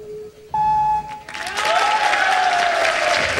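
Spectators at an outdoor Ninja Warrior obstacle course break into applause after a tone and brief quiet, the clapping swelling and then holding steady.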